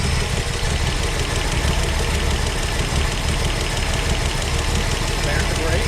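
A Slant 6 engine in a 1966 Dodge Coronet idles steadily up close, a dense continuous rumble with a faint ticking, under brief talk.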